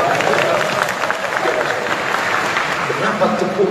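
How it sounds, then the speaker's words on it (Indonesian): Audience at a lecture by a preacher at UIN Suska Riau clapping together in a patterned burst, a dense, fairly loud ripple of applause from a large crowd with voices mixed in. "Lalu kemudian tepuknya 13 kali."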